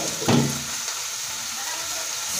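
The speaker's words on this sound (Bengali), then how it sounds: "আমি এবার তরকারি ঝোল দিয়ে দেবো।" Curry gravy poured over chicken pieces frying in a pan sets off a sudden loud sizzling burst that settles into a steady hiss of bubbling liquid; no talking.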